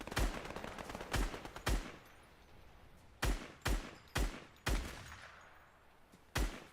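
Gunfire in Fortnite: sharp shots arrive in separate bursts, some as quick doubles and others as single cracks, spread across a few seconds with quieter ambience between them.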